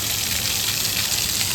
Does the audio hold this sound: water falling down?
yes